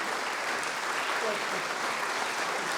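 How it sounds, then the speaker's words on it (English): Audience applause honoring a Holocaust survivor who lived through twelve concentration camps, a steady, dense clapping that fills the room evenly for its short length with no pauses. "And a round of applause for Joe Alexander."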